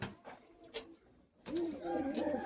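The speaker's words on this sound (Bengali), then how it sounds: "আর এই পাশে কিছু ফ্লাইং কবুতর" Pigeons kept at a home loft in Daulatpur, Bangladesh, coo softly with a few faint calls early on, then a fuller, louder cooing sequence from close by in the second half.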